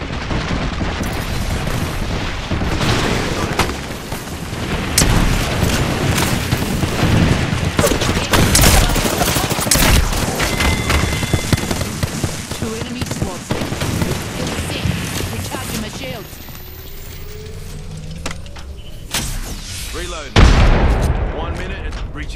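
Fuse's knuckle cluster explosions in Apex Legends set off a dense, sustained barrage of booms and crackling blasts over a steady game din, with a brief lull and one sharp burst near the end.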